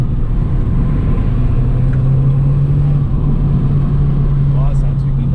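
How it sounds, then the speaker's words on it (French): A Fiat 500 Abarth engine drones steadily while driving, a loud continuous low hum with road rumble from inside the car, and a voice talks over it. "rouler toute la journée avec cette voiture"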